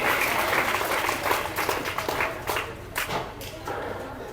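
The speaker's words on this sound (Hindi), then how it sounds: "तालियों की गड़गड़ाहट से उनका स्वागत करें" Sustained audience applause at a prize distribution ceremony for a talent search exam, a steady mass of clapping that ripples and eases slightly toward the end, with no talk over it.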